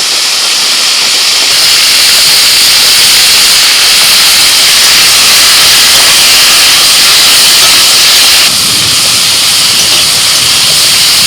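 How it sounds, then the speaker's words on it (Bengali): Malabar spinach stalks, potato, pumpkin, pointed gourd and ridge gourd frying together in a pan, a loud, close, unbroken hissing sizzle that holds steady throughout with no talking. "সবজিগুলো বেশ কিছুক্ষণ ভেজে নিয়েছি"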